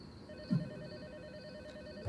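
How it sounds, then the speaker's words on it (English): A telephone rings inside the video game Tormented Souls II, a faint steady electronic trill sustained under a low ambient hum, with a soft thump near the start. "Yes, phone. I hear you."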